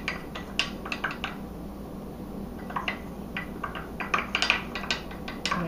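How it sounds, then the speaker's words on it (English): Cocoa and cornstarch are spooned into a mixing bowl for cooked chocolate frosting, with scattered light clinks and taps against the bowl, close and moderately quiet, clustering more densely toward the end. "you're also going to be putting in 4 tablespoons of cornstarch"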